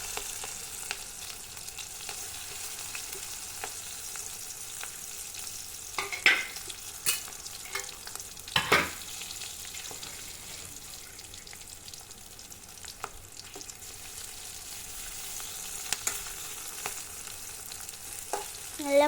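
Food fries in coconut oil with asafoetida in a pan for a beef roast and fried rice meal, giving a soft, constant sizzle with a few scattered scrapes and clinks of stirring.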